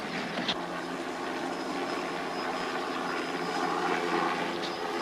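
Helicopter flies overhead, a steady, loud rotor and engine drone lasting the whole stretch, with no voices.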